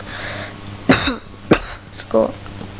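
A sick man gives a few sharp coughs close to the mic, followed by a rougher throat-clearing cough, with quiet background hum.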